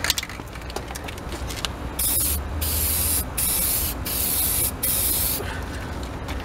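Rust cover-up coating hisses from an aerosol can into a rusting car wheel well in several loud, even bursts of about a second each, separated by short gaps.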